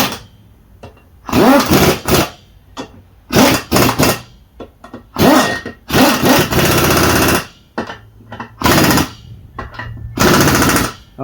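Impact wrench rattling lug nuts onto a Honda TRX125 ATV wheel, with about seven loud, close bursts of hammering separated by short pauses.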